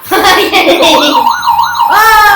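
A toy robot's warbling, wavering police siren tone rises and falls over a busy mix of voices and background noise, with someone talking close by.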